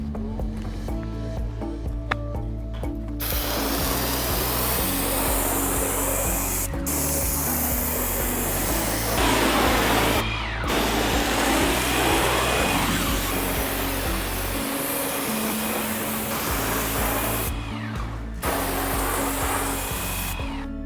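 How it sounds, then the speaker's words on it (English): An airless sprayer applies Ready Seal wood stain with a loud, steady hiss that runs almost the whole time, broken by a few short pauses where the trigger is released. "One of the fastest ways to apply Ready Seal is using an airless sprayer"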